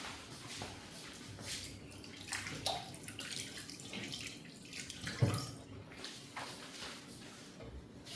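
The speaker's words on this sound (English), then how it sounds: "So let me wash my hands so I can taste it." Water from a kitchen tap splashes softly as hands are washed beneath it, a faint steady trickle with a few small clunks and drips close by.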